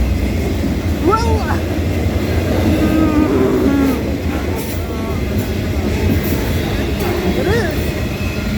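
A freight train passes close by in a steady, loud rumble of rolling cars with faint wheel squeals, and a voice speaks briefly over the noise.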